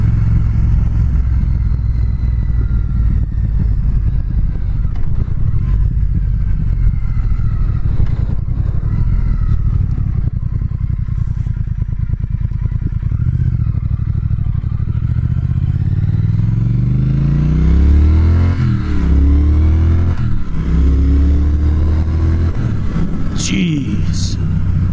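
A 2019 Triumph Speed Twin motorcycle is ridden hard, its twin engine droning under heavy wind rush before revving up strongly in rising sweeps as it accelerates, loud and continuous.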